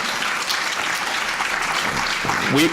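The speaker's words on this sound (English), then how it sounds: "So let's give them all a big round of applause." An audience at a community open space forum applauds government colleagues, a steady wash of clapping from a crowded room held for a few seconds, with a voice at the very end.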